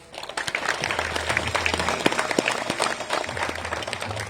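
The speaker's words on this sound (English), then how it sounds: "I request the entire team to give a clap" Applause from a team at a Samarthanam Trust for the disabled event in Dharwad, following a vote of thanks: broadband clapping builds quickly and holds steady and fairly loud for several seconds, with a low background hum.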